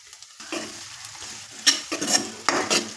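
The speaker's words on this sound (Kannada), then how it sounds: "ಈ ಟೊಮೊಟೊ ಏನಿದೆ ಇದು ಸ್ವಲ್ಪ ಸಾಫ್ಟ್ ಆಗೋವರೆಗೂ ಸ್ವಲ್ಪ ಫ್ರೈ ಆಗೋಕ್ಕೆ ಬಿಟ್ಬಿಡೋಣ ಒಂದು 2 ನಿಮಿಷ" Tomato frying with onions in a pan for palak dal, heard as a soft sizzle punctuated by several scraping stirring strokes and utensil clinks, close and moderately loud.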